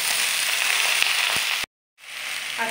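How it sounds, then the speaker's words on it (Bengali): Amaranth stem greens sizzling in a pan over a high flame for a Bengali vegetarian curry, a loud, steady broadband frying hiss with a few crackles that cuts out briefly, then resumes. "এখনো কিন্তু আমার ভাজা হয়নি, ভাজার ব্যাপারটা ফ্লেমটাকে বাড়িয়ে করবো।"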